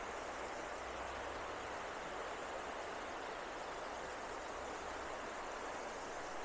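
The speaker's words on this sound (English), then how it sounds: "Listen to the river." A river in the Great Smoky Mountains rushing steadily, a dense, even wash of flowing water heard alone without voices.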